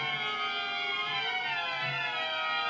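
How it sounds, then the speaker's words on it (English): Several overlapping sirens wail steadily, their pitches drifting and sweeping, moderately distant and continuous with no talking. "Sounds like sirens."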